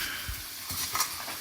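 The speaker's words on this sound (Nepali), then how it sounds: "हाम्रो यहाँ सङ्गुले सुँगुरको मासु बनाउँदै गरिरहेको छ" Pork meat sizzles and is stirred in a pan over a wood fire, a close, soft frying crackle with a few scraping stirs.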